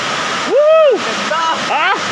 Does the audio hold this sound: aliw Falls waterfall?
yes